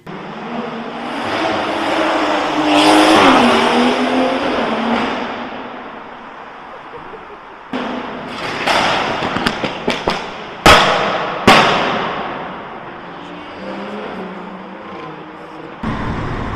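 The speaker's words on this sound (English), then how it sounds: "this is the loudest M140i in the UK" A heavily modified BMW M140i exhaust roars loudly through a long rev, then fires off a string of sharp, explosive pops and bangs on the overrun, close to the tailpipes.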